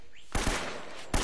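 Gunfire in Uncharted: Drake's Fortune: a brief, loud rattle of rapid shots after a short quiet gap, then another burst right at the end, heard with no talking.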